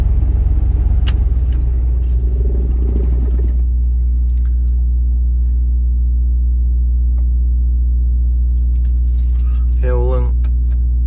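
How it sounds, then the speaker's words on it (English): Keys jangle loudly for a few seconds as a key goes into the ignition of a Kenworth T-680 truck, then a steady low hum continues, with a brief rattle near the end. "we'll put the key in ignition"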